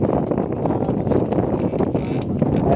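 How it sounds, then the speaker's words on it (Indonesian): Wind and rain outdoors beside Rawa Pening lake in Central Java, a dense, steady rushing roar with gusty buffeting against the microphone, loud and continuous throughout. "Hujan angin ya."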